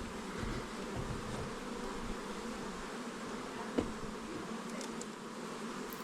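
Honeybees buzzing around a hive in an apiary during work to merge a nuc into an existing colony, a dense, continuous close swarm drone with one brief thump.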